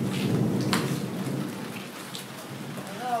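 Steady rain pours down in a dense, close hiss, with a low rumble of thunder rolling underneath throughout a brief stretch.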